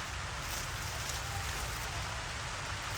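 Light drizzle falls steadily outdoors on a rainy afternoon in a garden where rooted bougainvillea is being harvested. It makes an even, close hiss of rain with no talking.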